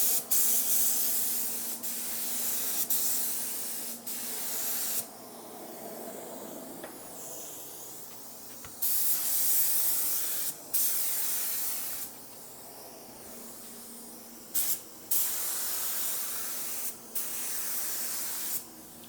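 Sprayable paint protection film applied as a dry mist from a spray gun: repeated bursts of loud, close hissing spray separated by short pauses, each pass running a few seconds.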